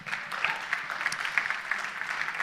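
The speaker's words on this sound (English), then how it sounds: "So a round of applause for that," Applause from an audience at a community meeting during a spring band concert in Brush, steady moderate clapping, fairly soft and somewhat distant, with no speech over it.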